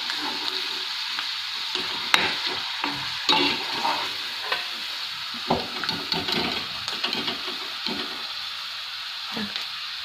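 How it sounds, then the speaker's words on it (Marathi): Green chillies fry in hot oil in a pan, the oil already used for frying peanuts for nylon sabudana chivda, producing a strong continuous hissing sizzle with small crackles and occasional light spoon taps. "हिरवी मिरची तळून घेऊ यामध्ये"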